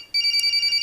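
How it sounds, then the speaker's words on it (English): A phone ringtone in the video game Corpse Party starts abruptly after a brief quiet moment, a loud electronic warble pulsing in quick even bursts, close and alone. "There's no message telling me who's calling either. Just a ringtone."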